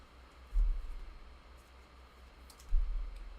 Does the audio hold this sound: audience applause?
no